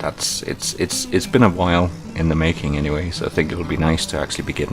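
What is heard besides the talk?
No everyday noises stand out.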